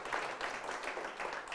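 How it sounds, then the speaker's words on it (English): An audience applauding award finalists at the New Zealand Hi-Tech Awards in Auckland, a dense, steady patter of clapping from a crowd. "Now, let's give them all a round of applause"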